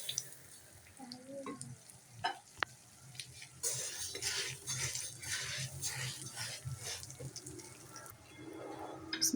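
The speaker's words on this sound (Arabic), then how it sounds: "السمنة سخنت كويس، هنزل بقى دلوقتي بالشعرية" Vermicelli hits hot oil and ghee in a pot for rice with vermicelli, bringing a broad steady sizzle that swells from about a third of the way in, with stirring scrapes and clinks over the frying hiss.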